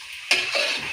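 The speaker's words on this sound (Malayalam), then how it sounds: "ഇനി ഇതിനൊന്ന് ഇളക്കി കൊടുക്കണം." Mutton for a homestyle curry is stirred in a pressure cooker pan, making one quick, close scrape followed by a brief sizzle.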